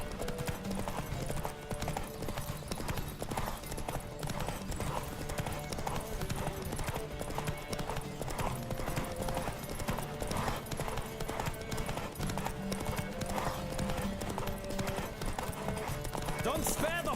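Horse hooves clip-clop steadily and rhythmically in The Witcher 3 video game, a continuous trotting beat with occasional voices over the top.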